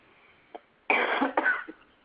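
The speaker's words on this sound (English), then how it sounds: "I apologize for coughing through the meeting." A few coughs during a conference call: one small hack, then a loud, harsh burst of coughing followed by a second fit and a fading throat sound, close to the microphone with no talking.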